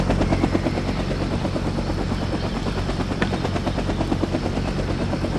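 A helicopter flies overhead in the Vietnam '65 video game, its rotor throbbing loud and continuous throughout, with a brief faint click partway through.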